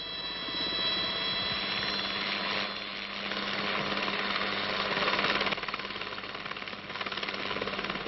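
A steady mechanical rotor and engine roar from a mountain rescue helicopter, with a rhythmic chopping pulse, loud and continuous, with a constant whining tone riding above it.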